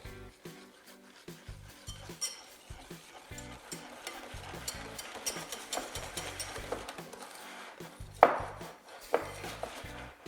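Whisk stirring sugar and cornstarch in a bowl for a pastry preparation, giving soft repeated scraping and swishing strokes with a few sharper clinks against the bowl.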